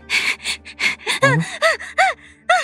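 A voice imitates a woman's heavy, ragged breathing that breaks into a series of sharp gasps as she jerks awake, close and rhythmic.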